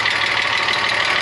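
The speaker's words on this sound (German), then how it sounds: "der Motor läuft jetzt schon locker 10 Minuten." Steady, loud running of a VR6 engine in a VW Passat Variant 35i that makes a strange noise, a continuous dense drone with no talking.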